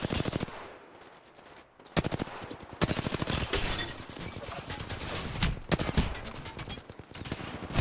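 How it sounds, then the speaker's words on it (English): Gunfire in the video game Apex Legends, rapid bursts of automatic shots starting after a quiet moment and continuing in uneven volleys, fairly loud with some shots sounding more distant. "Someone else is shooting at me as well from elsewhere."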